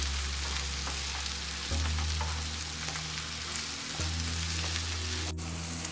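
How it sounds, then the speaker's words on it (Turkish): Peppers sautéing with onions in a pan produce a continuous, moderately close sizzle and crackle, with a low hum underneath and a faint scrape of stirring near the end. "Şimdi biberlerimizin hepsini katıyoruz. Bunlarla da biraz kavuralım."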